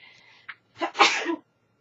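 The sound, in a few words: sneeze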